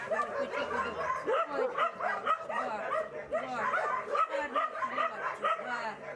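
Shelter dogs in Kalush, Ukraine bark, yip and whimper together in a continuous, overlapping chorus at close range, with a person talking underneath.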